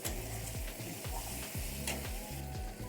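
Soya kofta curry masala with sugar sautéed in a pan, a dense close sizzle with a regular rhythm of spatula strokes repeating roughly every half second, and no speech.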